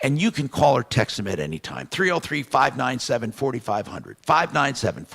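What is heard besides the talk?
No distinct noise like a dog, phone or traffic.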